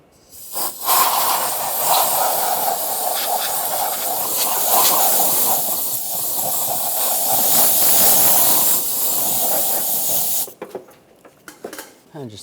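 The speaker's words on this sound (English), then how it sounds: "Just going to use a little compressed air." Compressed air blasting over the engine of a 1996-2002 Toyota 4Runner during a valve cover gasket job: one loud, continuous close hiss lasting about ten seconds, then stopping abruptly.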